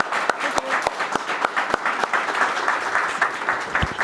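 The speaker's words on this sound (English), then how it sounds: "let's give a round of applause" Audience applause at an Elixir programming meetup: a short round of moderate, fairly sparse clapping from a modest crowd, steady for a few seconds with a faint voice underneath.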